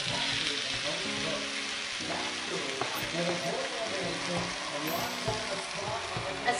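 Pork with radish and freshly added liver fries and gets stirred in a pan, a dense continuous sizzle with scraping stir strokes throughout and faint voices in the background.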